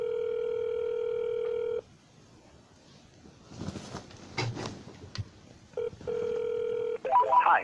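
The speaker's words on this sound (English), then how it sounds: "At the tone, please record." A voicemail system on a cell phone call plays steady electronic tones: a long sustained beep, then a quiet gap with faint rustling, then a short blip and another long beep, clear and close, with no speech over them.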